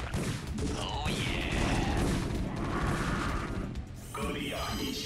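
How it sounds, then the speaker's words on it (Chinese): Heavy artillery fire in a video game battle booms and rumbles loudly and continuously, with dense blasts layered together and a fresh burst of explosions near the end. "指挥官，炮火轰鸣。 正在 遭受攻击。"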